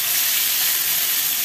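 Tomatoes dropped into garlic frying in a spoonful of ghee give a loud, steady sizzle, a dense hiss that runs unbroken from start to finish with no voices.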